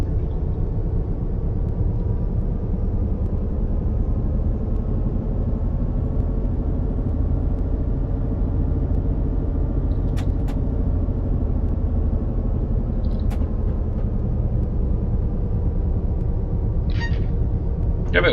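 A Class 66 diesel locomotive in Train Sim 2019 accelerates on the Ipswich to Felixstowe line, a steady loud low engine drone with layered harmonic rumble running throughout, with a few brief faint clicks near the end.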